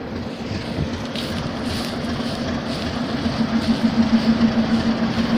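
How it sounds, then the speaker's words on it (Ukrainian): Train pulling into a village station in Dibrova, a steady low rumble with a sustained tonal hum that grows slightly louder toward the end, with wind noise over it. "Це ви бачите, як у нас в Діброві зупиняється поїзд."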